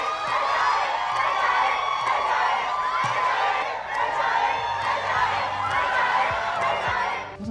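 A live audience at a behind-the-scenes event claps and cheers in a dense, continuous wash of crowd noise with shouts rising over it throughout.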